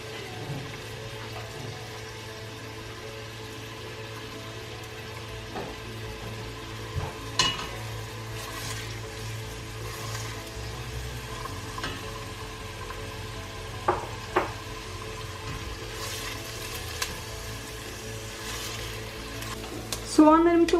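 Onion and garlic fry in a pan for a spinach börek filling, making a soft, steady sizzle broken by occasional scraping and stirring clicks, fairly quiet and close.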